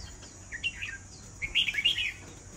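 A young red-whiskered bulbul, six to seven months old and kept in a cage, gives two bursts of bright chirps, a short call and then a longer, busier run of tweets, close and clear against a quiet background.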